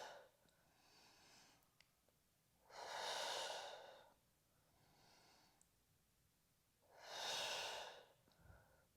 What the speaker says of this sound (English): Inhale up and exhale.